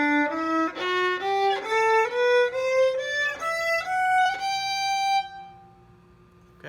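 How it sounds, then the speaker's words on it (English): A violin played with a bow climbs through a rising scale of clear, separate bowed notes, close and alone, ending in a decaying final tone and brief quiet. "If you play this with a bow, it sounds like this."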